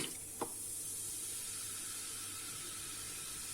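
A steady, bright fizzing hiss fills the whole stretch as vinegar is poured onto baking soda and citric acid, foaming and bubbling, with a faint brief tap near the start.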